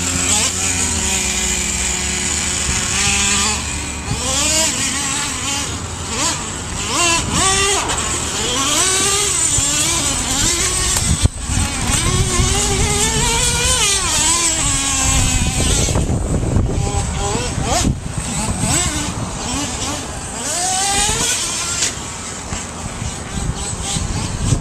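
Small RC cars racing around a track, high buzzing motors rising and falling as they accelerate and pass, loud and continuous with overlapping whines and a few knocks.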